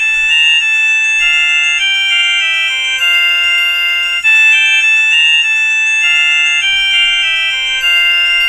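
Tone 3 on a cheap smartwatch: a continuous tinkling electronic ringtone melody, loud and close, with bell-like notes repeating over about eight seconds and no talking.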